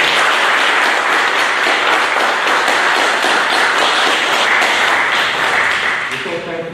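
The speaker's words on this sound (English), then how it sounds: "give a round of applause to each and every veteran that has served in our military across this nation" A loud, continuous round of applause at a Veterans Day celebration, holding steady for about six seconds before tapering off at the end, with no clear words over it.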